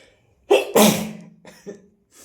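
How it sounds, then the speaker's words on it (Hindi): A single close, loud human sneeze with a sharp intake and explosive burst, followed by a short trailing sniff and breath sounds. "मुझे थोड़ी सी छींक आ गई"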